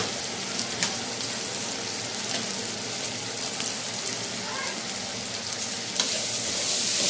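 Food sautéed in a pan with salt and black pepper, a loud continuous sizzle with soft stirring scrapes that swells slightly toward the end.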